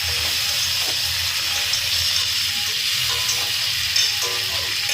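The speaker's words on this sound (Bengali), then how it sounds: "টমেটো দিয়ে দেবো। দিয়ে আবার একটুখানি ভালো করে নাড়াচাড়া করতে হবে।" Tomatoes frying and being stirred in a pan for a homemade pomfret fish curry, a loud, steady sizzle and hiss with occasional soft scraping from the stirring, close by and continuous, with no one talking.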